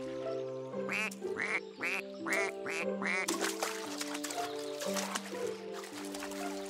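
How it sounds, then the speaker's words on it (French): Cartoon ducks from the animated series La Famille Chat quack in repeated bright bursts, several in a row, with playful musical or bubbly effects running behind them. "ils n'arrêtent pas de faire coin-coin"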